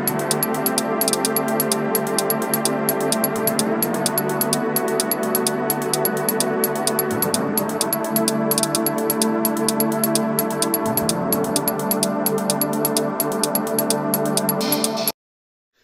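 Techno synth chords from a Drumcode track play alone, a sustained harmonic pad with a steady pulsing rhythm and chord changes every few seconds, loud and continuous until it cuts off abruptly at the end.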